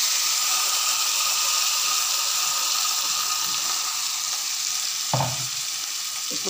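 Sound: ground tomato chutney poured into hot pan, sizzling

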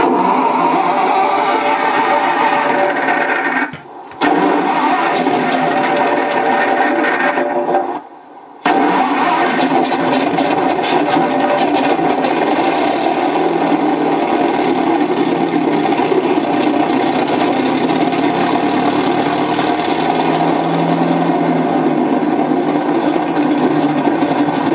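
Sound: engine start sound effect played from a DIY sound board

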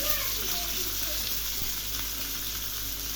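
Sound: onion and tomato frying in pan

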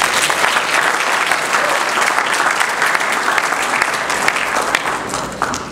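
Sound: audience applause

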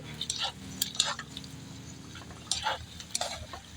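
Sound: stirring Baguio pechay (Chinese cabbage) in a pan

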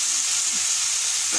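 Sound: dried fish thecha cooking and being stirred in a pan

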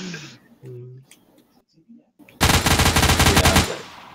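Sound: gunshots in Project Confrontation video game

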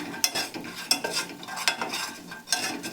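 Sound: stirring and roasting gram flour on low heat

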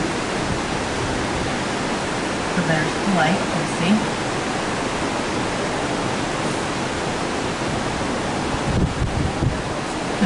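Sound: water rushing through canal lock gate

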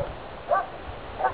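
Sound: dogs barking in the distance

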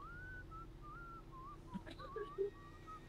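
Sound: character whistling loudly in the video game Red Dead Redemption

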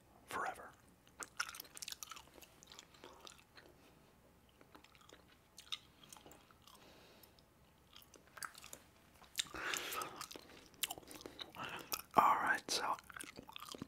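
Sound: chewing bubble gum close to the microphone

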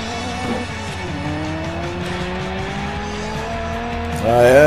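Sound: race car accelerating in Forza Horizon video game

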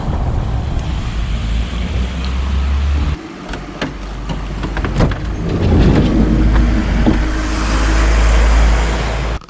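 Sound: car driving off on a street

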